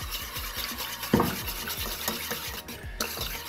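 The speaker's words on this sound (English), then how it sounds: "you're gonna go ahead and whisk vigorously or crazy" Caesar dressing is whisked vigorously in a bowl, a fast steady scraping and swishing with rhythmic strokes, close and continuous with no talking.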